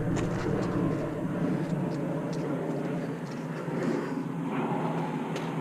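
Airplane passing overhead at a Florida nature area, a continuous broad engine drone that stays steady and fairly distant through the whole stretch.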